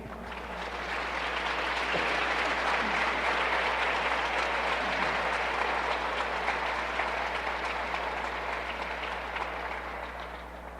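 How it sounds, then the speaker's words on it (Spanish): A church audience claps loudly in sustained applause during a sermon, a dense, even roar of hands lasting about ten seconds before easing slightly at the end. "Dale un aplauso al Rey."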